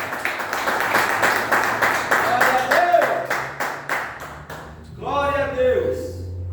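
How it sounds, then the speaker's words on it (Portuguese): A church congregation claps in steady rhythm to welcome a missionary at a Mother's Day service, the beat continuing for several seconds under voices before a brief pause and speech. "Com palmas para o Senhor, receba a missionária"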